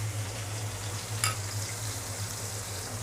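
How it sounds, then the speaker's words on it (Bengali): Spice paste frying with potatoes and pointed gourd, a low steady sizzle with a single brief clatter near the middle, close and fairly quiet, with no voices. "আলু এবং পটলের সাথে মশলাটাকে আমি এখন ভালোভাবে কষিয়ে নেব।"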